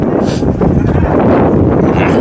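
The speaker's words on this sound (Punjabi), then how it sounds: "ਇੱਥੇ ਹਵਾ ਚੱਲਣ ਦੀ ਆ" Wind blows steadily past the microphone beside a river at a riverside crossing, a loud, continuous low rumble and buffeting that masks other faint background sounds.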